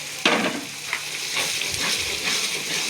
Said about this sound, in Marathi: हिरव्या मिरचीची पेस्ट घातली, ती 2 मिनिट आपण परतवून घेऊया तेलामध्ये